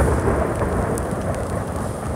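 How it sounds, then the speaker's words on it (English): Thunder rumbles over a steady wash of rain outdoors during planting, a dense, continuous low roar lasting throughout with no voices. "And that's thunder."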